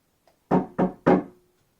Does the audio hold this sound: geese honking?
no